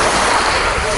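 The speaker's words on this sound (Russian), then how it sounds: "звуком моря." Sea waves wash steadily onto the beach at Taman Bay in the Taman stanitsa, a continuous broadband surf rush mixed with wind buffeting the microphone, loud and close for the whole moment.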